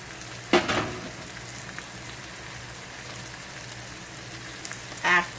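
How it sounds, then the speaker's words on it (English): Pork chops searing in a hot pan give a steady, close crackling sizzle throughout, broken by two brief louder scrapes or spatters near the start and end, with no talking. "now the pork chops must be seared for 3 minutes"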